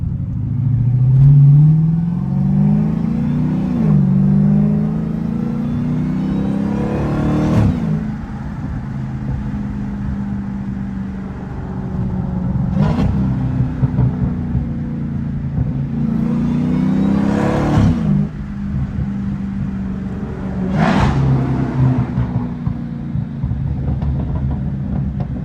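A Dodge Hellcat with a catless exhaust, revving repeatedly in cold weather, each rev rising and falling with sharp pops and burbles in between, loud and close, with no talking.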